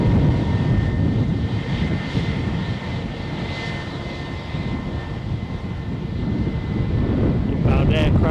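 An aircraft engine roars steadily at Edinburgh airport, a loud sustained drone with wind buffeting the microphone throughout.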